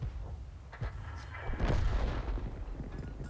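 A single artillery piece firing in a tank battle game: a muffled, heavy boom rolling out at moderate distance, quiet and set against low background rumble.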